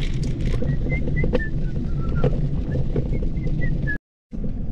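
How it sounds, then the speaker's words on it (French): Someone whistles a wavering, tuneful line of short notes over strong wind rumble while riding outdoors on a GTXR X10 electric scooter, then the sound briefly cuts out. "J'ai envie de siffler."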